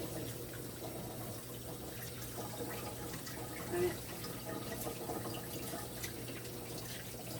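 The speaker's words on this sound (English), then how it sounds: "I'm just washing off my hand" Tap water runs steadily into a sink while a cook rinses flour dough off a hand in a home kitchen, with a soft continuous splash and trickle, moderately close, with no talking.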